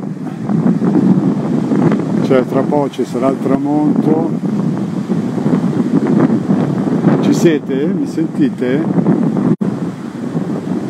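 Strong wind buffets the microphone on the Tenerife coast, a constant loud rumble under someone talking in Italian throughout.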